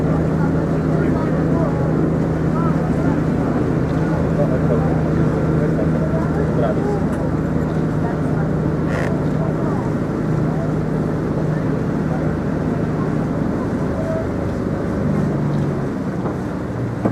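A tour boat engine drones steadily throughout in Katherine Gorge, Northern Territory, Australia, with wind buffeting the microphone and a voice talking over the low motor hum.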